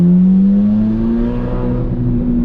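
The 5.5-liter flat-plane-crank V8 of a Corvette C8 Z06 revs with a loud, smooth, slowly rising drone, heard close and alone.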